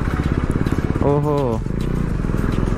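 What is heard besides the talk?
KTM Duke 390 motorcycle exhaust while riding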